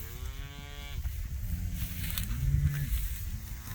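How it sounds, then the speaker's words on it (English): Cattle grazing on mature fall grass low and moo repeatedly, with long drawn-out calls overlapping one another, at moderate distance in open pasture with steady outdoor background noise. "That would be a South Pole cow there."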